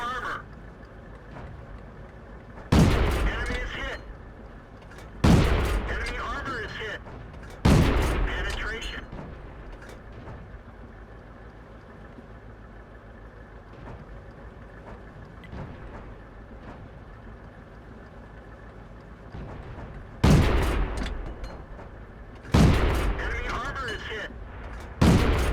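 Pz38nA tank gun in World of Tanks on the Malinovka map fires five loud booming shots, two close together early, a third after a pause, then two more near the end, each fading into a rumble, with a voice talking throughout.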